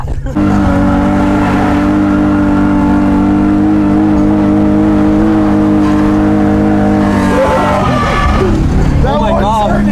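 A BMW E30 engine on a race track lap sounds loud and close from inside the car, a steady high drone that climbs and shifts as it revs, with a person's voice breaking in near the end.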